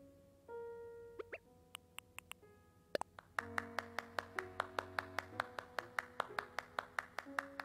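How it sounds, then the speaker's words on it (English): Clapping emote from a character in Animal Crossing: New Horizons: cartoonish chimes, then a fast, even run of crisp game claps over a soft tonal backdrop, no talking. "I wonder what happens if he's sleeping and you start clapping in his face."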